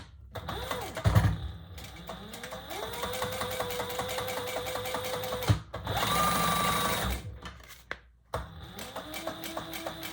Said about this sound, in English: And then I'm just going to sew up and across and back down.